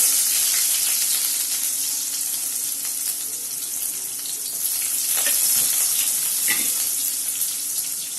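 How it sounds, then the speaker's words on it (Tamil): Onion, garlic, ginger and fennel sizzle in hot oil with a continuous bright hiss and a few faint stirring clicks, close up and without speech. "இதெல்லாம் போட்டு நல்லா வதக்கணும்"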